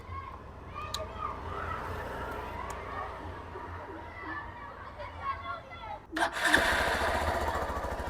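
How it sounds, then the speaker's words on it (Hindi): A rebuilt motorcycle engine runs steadily under faint background chatter, then swells to a louder, harsher roar for the last couple of seconds. "बाय द वे सबसे पहले आपको इंजन का साउंड सुनाते हैं।"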